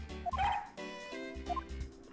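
Police dog Missile in the Ace Attorney Investigations video game gives a pair of short, bright barks or yips, each followed by a small whimpering tone, close and clear against quiet game music.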